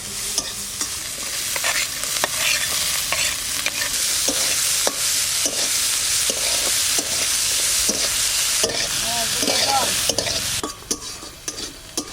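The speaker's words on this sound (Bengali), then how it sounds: "এই পেঁয়াজটা দিয়ে দিচ্ছি নাড়াচাড়া দিয়ে দিচ্ছি" Onions sizzle loudly in a pan while a utensil scrapes and stirs them in frequent clattering strokes. The frying quietens slightly near the end.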